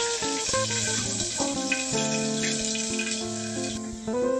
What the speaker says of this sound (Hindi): उसके साथ साथ हम इसमें ऐड कर देंगे प्याज को, बिल्कुल केयरफुली भूनिएगा।